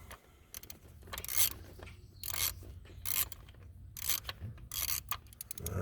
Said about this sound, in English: we're just going to remove the mounting bolt